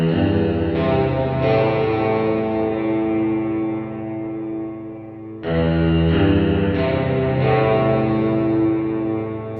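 Music processed through the McDSP FutzVerb reverb plugin, a dense sustained distorted chord with echoing, smeared tails that swell, briefly dip, then return loud and full with no talking.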